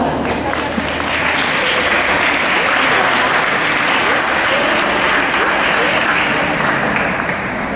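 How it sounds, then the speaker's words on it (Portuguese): Steady, dense applause from a large crowd at a roller figure skating competition fills the whole stretch, loud and continuous without pause. "Aplausos."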